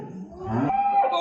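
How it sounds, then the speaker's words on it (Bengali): A cow lowing once in a long, deep moo that rises in pitch toward the end, close by at a cattle market or farm, with no voices over it. "তো গরু দেখাচ্ছি"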